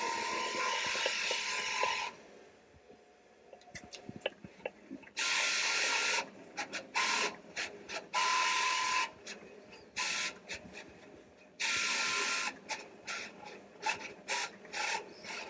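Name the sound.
Roland 300v print-and-cut machine feeding vinyl back after printing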